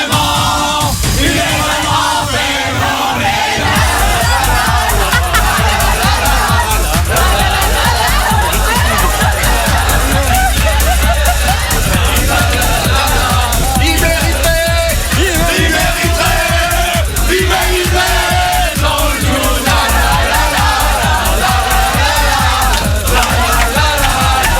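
A radio show studio audience sings loudly along with a performer at a live session, a dense, sustained crowd chorus with yells and whoops over steady rhythmic music for the whole stretch.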